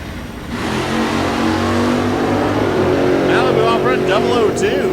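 A drag racing car accelerates hard down the strip at Mid America Dragway, its engine roaring loud and rising in pitch, while an announcer talks over it throughout.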